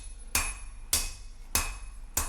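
Four loud, ringing hammer blows on hot metal at a forge, spaced about every 0.6 seconds, as a sword blade is shaped; each strike is sharp and bright with a short metallic decay, and no one speaks.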